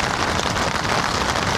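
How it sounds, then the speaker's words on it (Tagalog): Rain falls steadily on a seaside motorcycle campsite, a dense, even patter on surfaces that fills the whole moment with no voices. "hindi na titigil talaga tong ulan."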